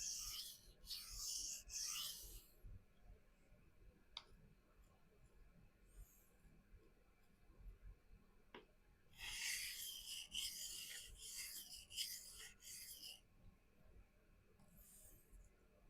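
A knife blade is stroked against a sharpening stone while an asymmetric edge is corrected, giving two clusters of close, rasping strokes with a quieter gap between them and a couple of sharp clicks.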